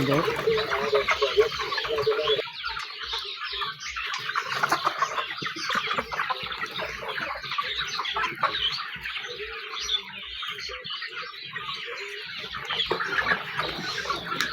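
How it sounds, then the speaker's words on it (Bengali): Sonali hybrid cock chickens on a poultry farm cluck and call continuously, many birds together, with a rhythmic mechanical thumping beneath and people talking in the background. "এ খামারে পাঁচ হাজার মুরগি আছে অলরেডি রেডি হয়ে গেছে"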